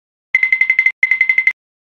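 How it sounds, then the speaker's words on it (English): A doorbell rings twice in quick succession, each a rapid, bright electronic trill of about seven pulses, loud and clear against silence. "Marvin, why are there so many people ringing the doorbell"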